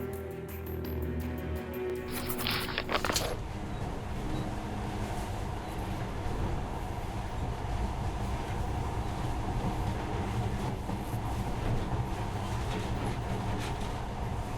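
A monorail train in the video game Metro: Last Light runs in a steady, continuous rumble with a dense, even rolling roar that persists throughout, loud and close with no pauses.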